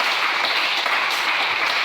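A church congregation applauds in a dense, steady wash of clapping from many hands, even and unbroken, with no voice rising above it.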